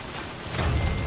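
Rain falls in the Death Stranding video game, a steady, close wash of heavy downpour with a deeper rumble swelling toward the end, continuous and loud with no voices.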